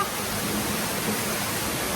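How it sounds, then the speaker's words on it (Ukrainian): A waterfall at the water museum in Kyiv gives off a steady, broadband rushing roar, close and constant with no breaks, heard alone. "а позаду мене, бачите, водоспад."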